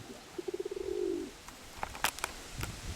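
A pigeon coos close by, a quick run of soft pulsing notes rolling into a longer throaty coo, followed by faint clicks and rustles in a quiet setting.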